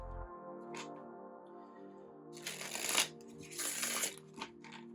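Tarot cards shuffled by hand in a quiet room, two bursts of riffling and rustling over a steady low hum, with softer card taps between them.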